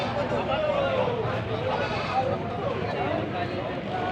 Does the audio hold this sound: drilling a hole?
no